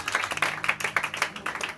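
A church congregation claps in a quick, uneven rhythm of many hands, praising Jesus, with brief voices mixed into the applause.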